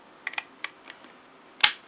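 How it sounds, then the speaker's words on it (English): Scissors snip the corners off scored craft paper in a few quick, light clicks, ending in one sharper, louder cut, heard close in a quiet room. "snip out those little corners"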